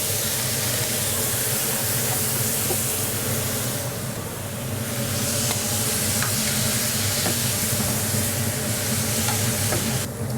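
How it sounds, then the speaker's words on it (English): Marinated black Iberian pig cheek sears in a hot pan, giving a steady close sizzle and hiss that holds for the full length, with a brief dip in brightness midway and small pops and crackles scattered through. "we're just going to sear that off"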